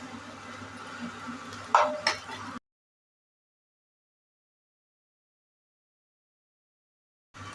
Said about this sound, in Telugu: ఇప్పుడు మనం ముందుగా వేయించి పెట్టుకున్న క్రిస్పీ కార్న్ ఇందులో వేసి కలుపుకోవాలి.